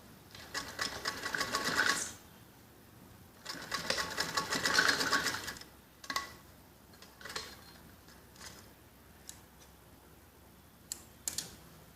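A sewing machine stitches piping around the neckline of a kids' top in two close, steady bursts of rapid mechanical chatter, followed by scattered faint clicks and taps of handling.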